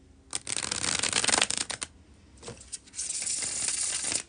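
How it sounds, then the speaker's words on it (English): Tarot cards being bridge-shuffled, two loud riffling bursts of cascading cards separated by a short pause, close and clear with no talking. "when I do the bridge shuffle"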